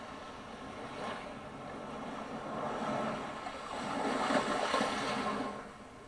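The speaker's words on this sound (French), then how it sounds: "Le son des vagues pour t'accompagner afin de pouvoir te régénérer." Ocean waves for relaxation roll in a soft, broad wash that swells and fades in slow surges, moderately distant and steady, with no voices.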